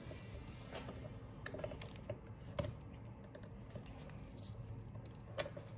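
Small mechanical clicks and creaks sound close up as parts of a TM Omega pen kit are pressed together during pen assembly. Sparse ratchety snaps come at irregular intervals over a quiet background.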